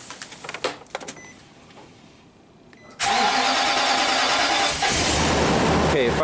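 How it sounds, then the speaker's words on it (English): A cold Nissan truck engine is cranked at length and then fires, with quieter clicks and faint sounds giving way after about three seconds to a sudden loud, steady engine roar close by. "Okay, fired up, long crank time."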